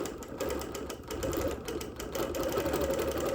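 A sewing machine quilting around embroidered flowers on wool runs in a close, rapid, even stitching chatter with brief slight pauses, steady and alone.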